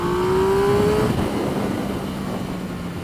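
A Triumph Speed Triple S motorcycle pulling hard in second gear on a highway, engine note rising quickly before a gear change, then steady wind roar.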